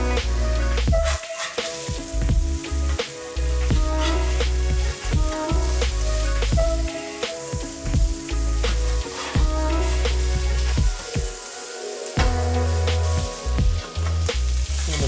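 Beef sizzling loudly on a flat-top griddle for a Philly cheesesteak, a steady close crackling hiss broken by repeated sharp spatula scrapes and clanks throughout.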